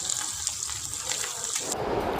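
Anchovies sizzle as they fry in hot oil in a kadai for a crispy Nethili 65, giving a steady bright hiss close by that thins into a softer crackle near the end, with no one speaking.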